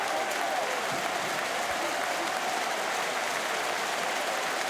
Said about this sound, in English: Rapturous applause because Leicester have doubled their lead at the King Power Stadium.